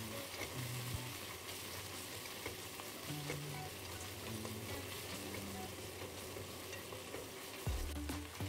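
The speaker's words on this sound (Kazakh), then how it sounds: "Тағы да қуырып, тұз бен зираны қосып, баяу отта 10 минут қуырамыз" Meat sizzles steadily in a pan over low heat with garlic, salt and cumin for plov, a close, continuous frying hiss with occasional stirring scrapes and no talk.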